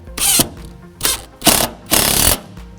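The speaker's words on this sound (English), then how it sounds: "So I'll go ahead and put in some screws now." Power drill driving screws into a Leviton structured media center enclosure box, four close, loud bursts of whirring motor, short then longer, separated by brief pauses.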